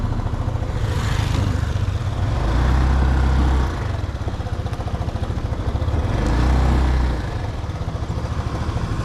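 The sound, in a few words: vehicle passing by on a street in Taipei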